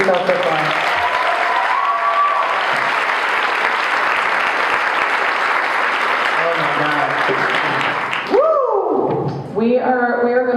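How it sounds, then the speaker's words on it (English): A crowd at a live storytelling event applauds loudly and steadily. A host's voice carries over the clapping, and the applause fades out near the end as the host keeps talking. "keep that round of applause going for all the stories you tell so far"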